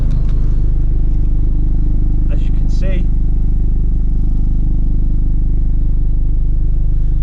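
An Audi S3 8V facelift exhaust idles in comfort mode, a steady low drone that stays near and constant while someone talks over it.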